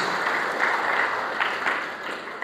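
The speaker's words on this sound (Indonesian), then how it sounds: "Tepuk tangan terbaik buat Tuhan Yesus." Church congregation applauding during a sermon, a steady wash of hand claps held at a moderate, even level with no voices over it.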